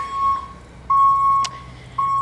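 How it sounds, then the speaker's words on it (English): A truck backing up sends out repeated reversing beeps, steady mid-pitched tones in regular pulses with short gaps, heard from a distance over low background hum and a brief click. "Oh, there's a truck backing up."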